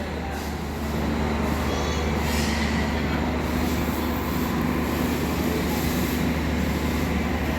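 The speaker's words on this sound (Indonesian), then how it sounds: "itu dia rangkaian kereta api Progo ya" Progo economy passenger train waiting at a station platform, a steady loud rumble and hiss of idling rail equipment with a low drone throughout.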